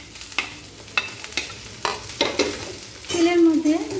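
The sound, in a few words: onion and capsicum stirred and frying in oil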